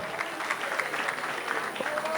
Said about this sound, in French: est-ce qu'on peut applaudir très fort pour ce moment?